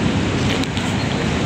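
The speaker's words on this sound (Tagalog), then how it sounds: "Kasi umuulan eh." Steady, heavy rain pours as a continuous broadband hiss in an outdoor street setting near a bank, close and loud with no pauses.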